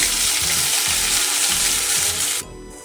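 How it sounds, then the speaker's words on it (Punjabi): A spoonful of cumin seeds sizzles in hot oil in a wok while potato and bitter gourd sabzi is being cooked. The hiss is loud, dense and steady at close range, then abruptly drops to a softer sizzle near the end. "ਇਹਦੇ ਵਿੱਚ ਇੱਕ ਚਮਚਾ ਜੀਰਾ ਪਾ ਦਵਾਂਗੇ ਜੀਰੇ ਨੂੰ ਤੜਕ ਲਵਾਂਗੇ"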